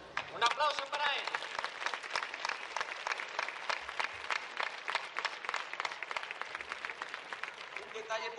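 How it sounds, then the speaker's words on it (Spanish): Quiet but distinct audience applause at a pasodoble show, individual claps audible in a rapid, fairly even patter that continues for several seconds, with a brief voice near the start and again at the end. "Un aplauso para él."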